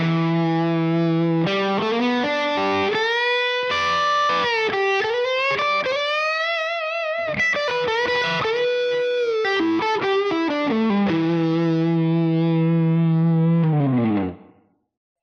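An electric guitar with heavy distortion plays a pentatonic lick slowly, note by note, with bends and sustained notes, loud and alone before ringing out and stopping.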